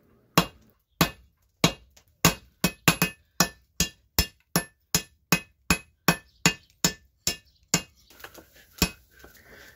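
Hammer forging a welded 24-layer damascus steel billet into a round bar: about seventeen sharp, ringing metallic strikes in a steady rhythm, loud and close, with no talk.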